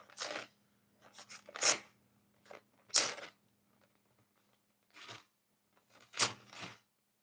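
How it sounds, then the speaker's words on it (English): Brown paper torn by hand, a series of separate crisp ripping bursts of varying length with quiet gaps between, close and fairly soft. "So I'm just gonna rip up this paper."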